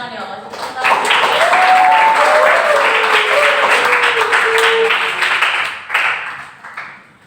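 Audience applause fills a classroom or presentation setting, a dense, steady wash of clapping lasting several seconds with voices speaking over it, then thinning out toward the end.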